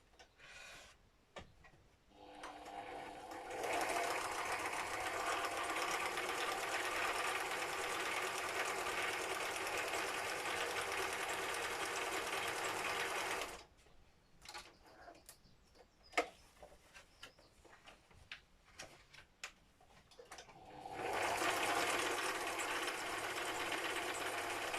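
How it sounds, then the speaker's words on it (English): A sewing machine stitches at one side of the room, a fast rhythmic clonking run that stops, gives way to sparse clicks and handling knocks, then starts up again, fairly quiet. "So I'll say the sewing machine set up to the side here, so you will hear the clonking."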